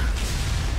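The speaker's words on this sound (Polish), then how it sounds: "jest ten wybuch" A deep, muffled explosion booms in the Skyrim Anniversary Edition video game, a dense low rumble that fills the brief moment and holds steady without any voices.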